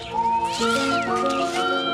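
An excited kitten out of the house for the first time meows loudly and close, a couple of drawn-out, wavering cries running into each other with no talking.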